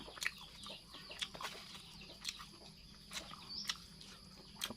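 Quiet farmyard ambience with a few short, scattered chicken clucks at a distance, soft and irregular against a low background hum.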